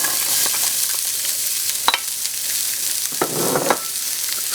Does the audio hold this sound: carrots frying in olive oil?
yes